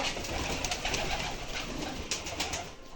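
Dhakaiya Gribaz pigeons cooing inside a loft, low soft coos over a steady busy background of fluttering and shuffling, close by and continuous for a few seconds.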